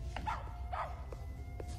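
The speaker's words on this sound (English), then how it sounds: "The dog." Short dog barks and yips from a movie, three or four quick sharp calls at moderate level over a low background hum.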